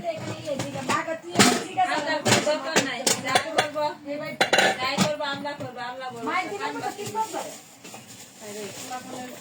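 Pots and metal utensils clink and clatter while khichuri cooks in a home kitchen, with irregular bursts of knocks and scrapes under near-constant talking.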